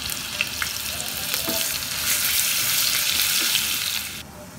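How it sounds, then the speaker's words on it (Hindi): Ginger and garlic fry in hot oil for a tempering, giving a steady, close sizzle with faint crackles throughout that quietens slightly at the very end. "अब इसी के अंदर मैंने अदरक लहसुन डालना है"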